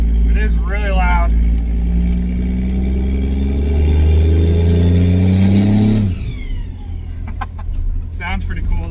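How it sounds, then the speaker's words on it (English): A Cummins diesel truck engine roars loudly from inside the cab on a test drive, a deep rumble climbing in pitch as it accelerates, then dropping sharply around a shift and settling into a lower drone. "So we're in the Cummins. It's not super comfortable. It is really loud."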